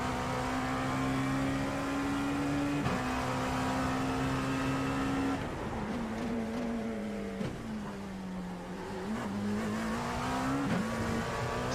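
Dallara P217 LMP2 prototype engine at Le Mans in iRacing, heard on board as a loud, steady high-revving drone that shifts pitch through gear changes, with no talk.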